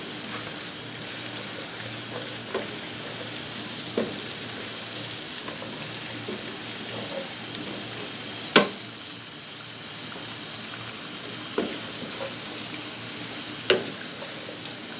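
Okra (bhindi) fries in a pan with a steady, even sizzle like light rain, moderately quiet, broken by a few sharp isolated clicks and taps of a utensil.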